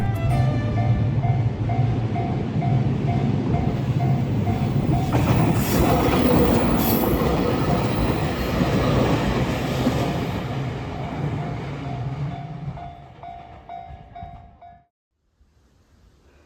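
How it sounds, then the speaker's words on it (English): A train passing through a street in Sasebo, Japan, with steady loud rumble and clatter of rail cars and a repeating high warning tone, continuing for about fifteen seconds before cutting off abruptly into near silence. "The train was passing by just in time."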